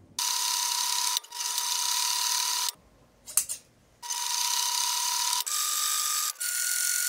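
A sewing machine stitching fabric seams on a tool roll pouch runs in steady close whirring bursts of rapid needle rhythm, stopping briefly for a clunk of handling before starting again.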